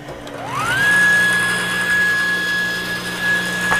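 A saw with a 1/8 inch blade spins up with a rising whine, then cuts through wood in a loud, steady, high-pitched hum that holds for several seconds.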